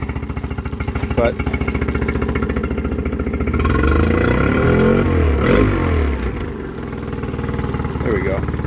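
A small outboard engine on a Sylvan aluminum boat runs close by, running on ethanol fuel. It chugs unevenly, then revs up into a louder, smoother roar and drops back to a rough idle, with someone talking over it.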